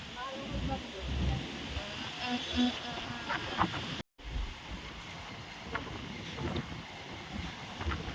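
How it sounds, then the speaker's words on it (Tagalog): Strong wind on a foggy Tagaytay day buffets the microphone in a low, rumbling rush. People talk over it, and there is a brief dropout midway. "Grabe ang hangin."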